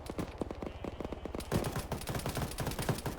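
Rapid bursts of gunfire in an Arma 3 infantry battle, sharp repeated cracks in quick succession, dense and close, with heavier overlapping volleys in the second half.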